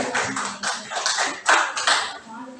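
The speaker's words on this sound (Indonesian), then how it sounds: "Tepuk tangan" A high school class clapping hands in a classroom, a short burst of uneven claps from a small group rising and fading over a couple of seconds, near and moderately loud.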